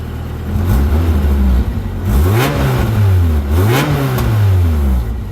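A Toyota AE86 engine cranks, catches and settles into idle, then is revved twice in rising and falling sweeps, loud and close with no talk over it.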